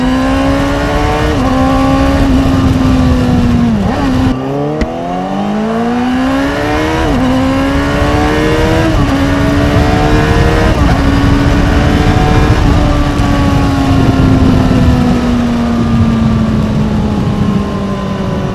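A Honda CBR600RR motorcycle accelerating hard on a night ride, the engine note climbing loud and close through several gear changes, each shift dropping the pitch before it winds up again, with steady wind roar throughout.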